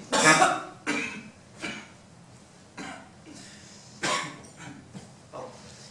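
A series of separate coughs, about six bursts spaced a second or so apart, close and fairly loud, with a rough throaty quality.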